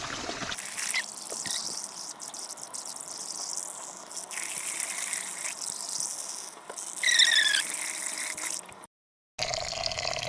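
Water splashes and gushes steadily as rice is swished and rinsed in a container, with occasional squeaky scrapes and a brief silent gap.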